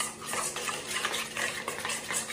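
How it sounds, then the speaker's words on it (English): Cilantro dressing whisked in a bowl, quick soft rhythmic swishing and light tapping strokes, faint and close, no talking. "Just, stir it, whisk it, get it all together."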